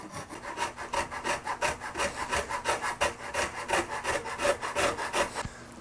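A hand rasp files facets into the wooden neck of a custom guitar in quick, steady back-and-forth strokes. Each stroke makes a close, coarse scraping rasp in an even rhythm, with no talking.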